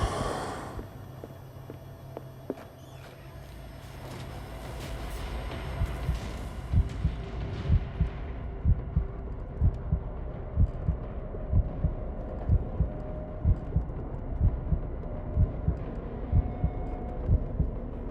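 A character's heart pounds in the horror video game Call of Cthulhu, a steady thudding beat rising out of a low droning ambience and repeating evenly for over ten seconds, with no other voices.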